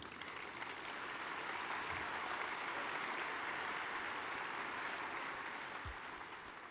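Steady applause from a large audience at a technopreneurship summit, a dense wash of clapping that fills the whole stretch at an even loudness, with no talk over it.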